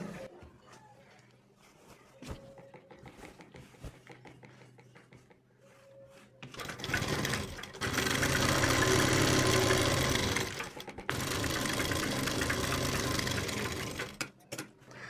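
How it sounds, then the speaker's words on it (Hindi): Electric sewing machine stitching the hem of a salwar: after quiet handling, two long, loud runs of fast mechanical clatter separated by a brief pause. "तो यहाँ पर आपको डबल सिलाई लगानी है और यहाँ भी आपको डबल सिलाई लगानी है।"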